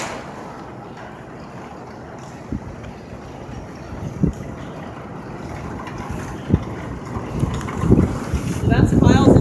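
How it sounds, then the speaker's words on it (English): Gusty wind through an open vehicle door on a dairy farm in Buchanan County buffets the microphone with low rumbling blasts that grow stronger toward the end, mixed with a distant engine-like drone. "It's going to get kind of windy"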